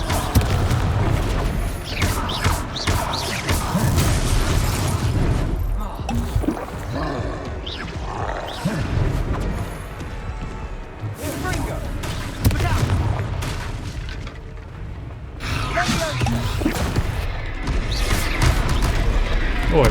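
A blasting-spell explosion in the fantasy video game Hogwarts Legacy, a heavy booming crash set among dense battle noise with repeated impacts and mechanical clatter, and voices heard now and then.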